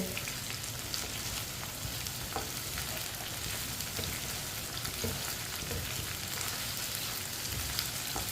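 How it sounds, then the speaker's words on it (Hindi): Okra sizzles steadily in a hot pan while a spoon stirs it, with occasional scrapes and clinks. The crackle is continuous and moderately loud, with no talking. "अब इसे 3-4 मिनट के लिए फ्राई कर लेंगे, ऐसे ही चम्मच चलाते हुए।"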